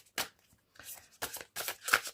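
Oracle cards are handled and shuffled by hand, several quick papery riffling bursts in an irregular rhythm, close and fairly soft, with no talk.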